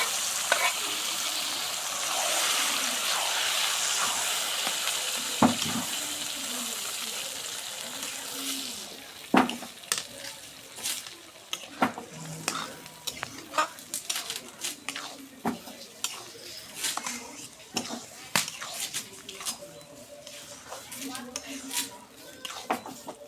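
Taro pieces fry and sizzle steadily in hot oil with fried onion and spices, followed by a long stretch of scraping and clattering stirring strokes against the pan, with occasional speech.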